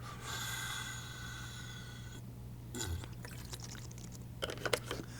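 Quiet close-up sips from a bottle of New Zealand water, with soft breathy slurps and small liquid movements over a steady low electrical hum, a few sharper wet clicks near the end.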